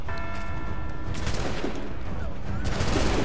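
A volley of gunfire from Assassin's Creed 3 erupts in a dense crackling burst of shots, fairly loud and close. Rumbling echoes follow, and a second crack comes near the end.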